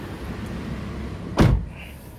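A Toyota Avanza car door shuts once with a solid, loud thud inside the cabin, standing out over a steady low background hum.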